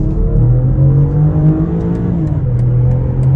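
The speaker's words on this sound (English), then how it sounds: "take this car out onto this multiple lane highway, lean into it, and on the gas" A BMW X6 xDrive40i accelerates hard on a multi-lane highway. Its engine note climbs through gear changes in a loud, steady roar over tyre and road noise, and nobody talks.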